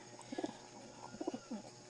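Pet pigeons coo in soft, low, repeated bursts, several throaty calls close by against a quiet background.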